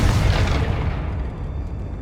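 A Confringo explosion spell goes off in Hogwarts Legacy, a loud, deep booming blast at the start that rumbles and slowly fades over a couple of seconds with no voices.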